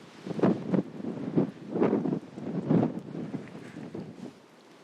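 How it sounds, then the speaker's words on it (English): Strong wind gusts buffet the microphone beside a river in Alaska, rising and falling in loud, rough surges with no speech. "Windy, real windy."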